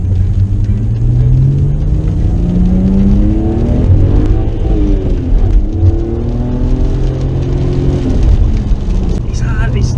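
A BMW with the N54 engine and 53,000 miles revs hard and climbs through the gears, rising and dipping in pitch, loud and close, with a voice speaking over it.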